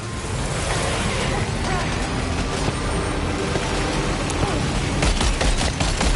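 Dense, sustained gunfire rattles in the video game Death Stranding 2, a loud barrage of rapid shots layered over rushing ambient noise, with voices faintly present.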